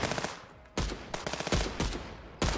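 Gunfire from a gun in the Contraband Police video game: a few sharp, loud single shots spaced across a second or two, each followed by a short decaying tail, heard close with no talk.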